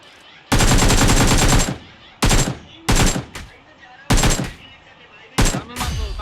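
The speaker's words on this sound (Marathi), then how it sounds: "अरे तिकडनं फायरिंग आले ते बघ पहिला" Automatic gunfire crackles in the BGMI battle royale game: five sharp, loud bursts of rapid shots separated by short pauses, the first burst the longest.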